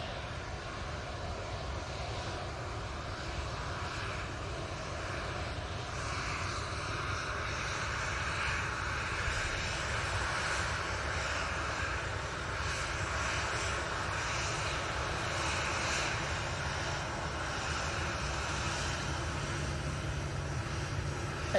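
A Ryanair airliner at Manchester Airport makes a steady, loud engine roar that holds at an even level throughout with no voices.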